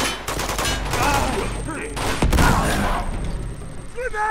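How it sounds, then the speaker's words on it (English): Dense bursts of automatic and single-shot gunfire in Uncharted 2: Among Thieves Remastered, rattling close and loud almost without pause, with a heavy thump partway through, as a short electronic tone sounds at the end. "Put any bullets into him and he survives?"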